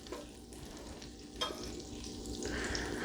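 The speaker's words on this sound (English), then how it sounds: "who doesn't like watching butter melt in a hot pan?" Butter melting in a hot pan for a creamed chipped beef gravy gives a close, continuous crackling sizzle. It holds fairly steady throughout, with a small knock partway through, and no one talks.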